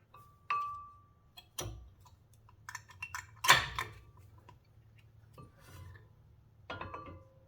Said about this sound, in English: Remove this brake pad from the brake caliper.